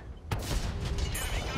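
A sharp tank cannon blast fires in World of Tanks Modern Armor on PS5 and rolls off into a broad rumbling boom that lingers, loud and close, with a faint voice underneath.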